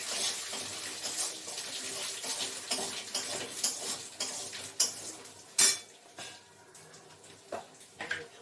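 Water poured over chopped spices for a mutton curry in a home kitchen, a soft trickling splash with scattered clinks of utensils and dishes, fairly quiet and without speech.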